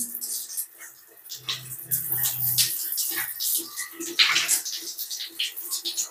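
Steady rushing water pours and splashes over hands being rinsed, a continuous close-up gush with small shifts in intensity.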